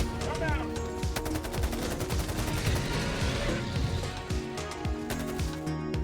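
A Liberator rifle fires at a Charger in Helldivers 2: rapid, dense strings of automatic shots ring out almost continuously over a busy, loud background of gunfire.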